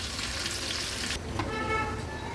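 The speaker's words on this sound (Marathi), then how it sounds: "उलट पालट करून ह्या फटाफट अशा तळून घ्यायच्या आहेत हाय फ्लेमवरच." Prawns deep fry over a high flame in a loud, close, continuous sizzle that softens partway through, likely as the pieces are turned.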